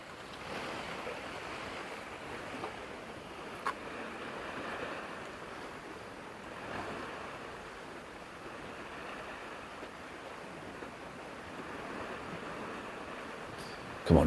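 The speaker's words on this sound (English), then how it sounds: "Just sitting listening to the waves" Ocean waves wash steadily onto the shore at a fishing spot, a soft continuous surf with gentle swells and light wind, no talking.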